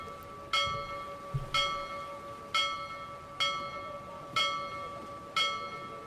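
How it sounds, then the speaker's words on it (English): A ship's warning bell rings in the Minecraft video game, six evenly spaced metallic strikes about a second apart, each with a bright ringing overtone stack that decays before the next, over a quiet steady ambient hum. "Uh-oh, that's the warning bell"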